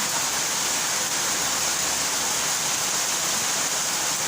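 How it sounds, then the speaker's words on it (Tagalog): Heavy rain pouring down hard, water streaming off steps like a waterfall: a loud, unbroken roaring hiss that stays constant from start to finish, with no voices. "Sobrang lakas ng ulan."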